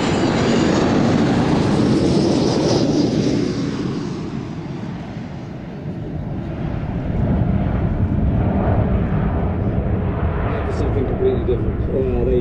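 A Boeing 727 oil spill response jet passes over an air show, its engine roar loud and broadband, swelling, easing and then building again in a long pass, while a commentator speaks over it.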